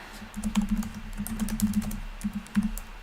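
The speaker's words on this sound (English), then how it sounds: "I gotta just type it out in the room." Fast typing on a computer keyboard, a steady close stream of light key clicks with a few louder taps, heard alone without talk.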